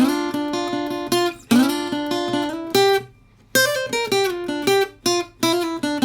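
A solo blues guitar plays a phrase of plucked, ringing notes in bursts over "Going Down the Road Feeling Bad," with short pauses and sustained bends between runs, no voices.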